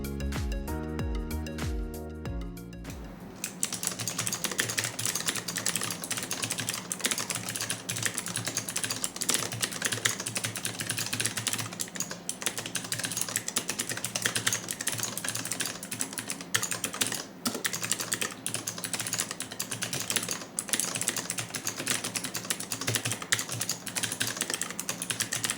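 Rapid, continuous typing on a Dygma Raise split mechanical keyboard, dense clacking keystrokes up close for over twenty seconds, following a brief burst of music at the start.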